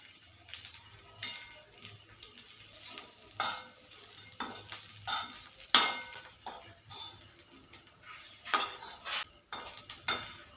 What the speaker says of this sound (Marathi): ह्याच मध्ये आपल्याला खोबरं घालायचं खोबरं हे भाजून घेऊया